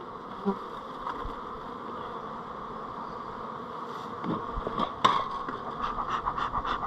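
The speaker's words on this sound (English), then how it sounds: "there's a lot of bees in here when you put 10 frames of capped brood in" Dense, steady buzzing of many honeybees up close in a hive with ten frames of capped brood, a continuous hum with occasional scratchy movements and a few louder bursts near the end.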